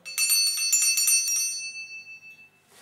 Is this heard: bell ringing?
yes